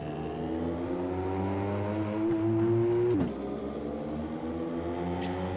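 Car engine in the PISTA Motorsport racing simulator, a steady idle hum rising into a brief rev before dropping back to a constant drone, close and alone with no talk.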